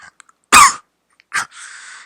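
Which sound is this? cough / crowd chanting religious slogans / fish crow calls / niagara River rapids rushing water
cough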